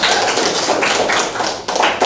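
A dense burst of clapping from a group fills the room, steady and loud throughout with no pause.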